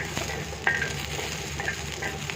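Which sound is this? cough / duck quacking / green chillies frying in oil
green chillies frying in oil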